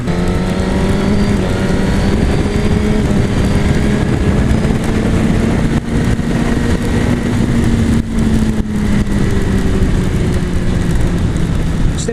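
A 2017 Suzuki GSX-R1000R sport motorcycle pulls hard under acceleration, its engine note rising steadily through the revs with a constant loud roar and wind rush, heard from the rider's position with no talk.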